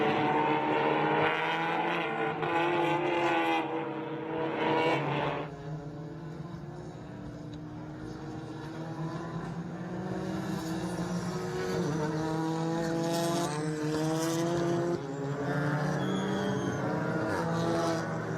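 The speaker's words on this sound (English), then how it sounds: "the understeer that you're predominantly going to get with a front-wheel drive race vehicle like these" Front-wheel drive TCR touring race cars roar past at a circuit in Texas, with steady engine drones shifting pitch as they accelerate and pass, loud and continuous across the whole stretch with no talk.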